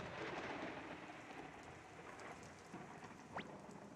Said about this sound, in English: Won't stop raining